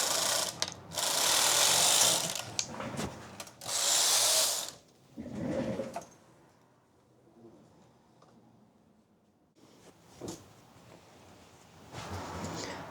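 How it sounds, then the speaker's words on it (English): A knitting machine working stripes, its carriage making loud buzzing, ratcheting runs back and forth in several separate bursts. Quieter mechanical clicks and handling noise fill the gaps. "Back on the machine. Overlap every other stitch. Knit stripes."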